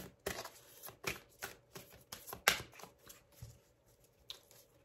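Oracle cards from a lunology deck being handled and shuffled, a close, soft series of papery flicks and riffles in irregular bursts, with no talk over them.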